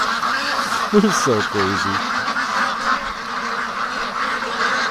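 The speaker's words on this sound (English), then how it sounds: "Oh, these ducks." Ducks being raised for charity quack in a quick burst of several calls nearby, with someone talking over a steady background hum.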